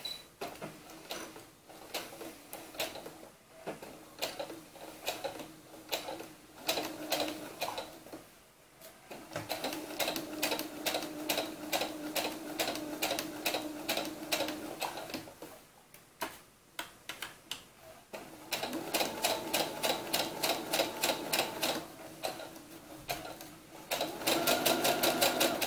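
A sewing machine runs a straight stitch along a doll dress seam in several bursts, its rapid, even ticking chatter stopping and restarting, close and fairly quiet.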